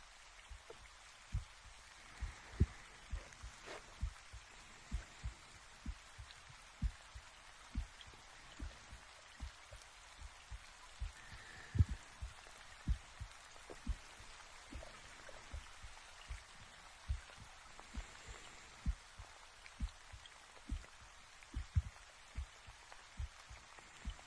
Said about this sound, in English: See, I told you it's not raining too hard.